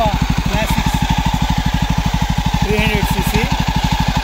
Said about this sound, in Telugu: ఈరోజు బైక్ రైడింగ్ ఎలా ఉందంటే జావా క్లాసిక్స్